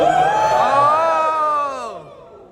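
A concert audience cheers and screams in a loud burst of high whooping voices that swell and then fade over a couple of seconds.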